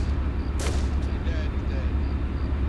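Video game gunfire in a military battle, a heavy low rumbling barrage with a sharp crack early on, steady booming throughout, loud and close.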